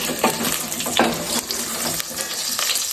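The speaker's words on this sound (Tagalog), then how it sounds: "Ato na naiya pahigison ba para matunaw tiya tambok." Pork fat renders in a hot pan with a steady, close sizzle and crackle, broken by a few sharper spatters and stirring scrapes, with no voices over it.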